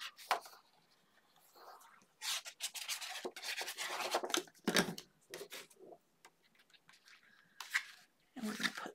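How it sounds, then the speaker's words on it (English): Paper being burnished down onto a Christmas-themed folio with a bone folder, the tool rubbing and rasping in several bursts of varying length, close and fairly loud, with short pauses between strokes. "Let's burnish that down first since I kept messing with it."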